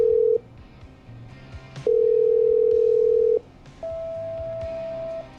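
Steady telephone line tones from the radio-station game Killer Frequency while a call is being patched through: two long held beeps at different pitches, separated by short gaps, over faint background music.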